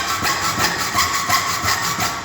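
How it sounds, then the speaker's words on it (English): A hacksaw cuts into the metal tang of a trowel in quick, even back-and-forth strokes, a loud close rasping hiss with a regular rhythm and no talk. "create a series of cuts with my hacksaw and just cut"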